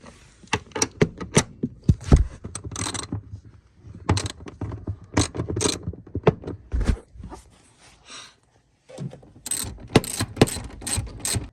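Ratchet wrench loosening a front seat bolt in a 1996-2000 EK Honda Civic coupe, close bursts of rapid clicking separated by short pauses, with no talk.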